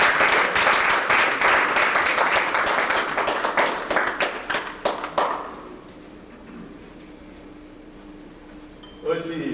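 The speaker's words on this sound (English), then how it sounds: "Let's give him a very big applause." An audience at an event applauds a speaker, full clapping for about five seconds that thins to scattered claps and fades into quiet, followed by a voice starting to speak.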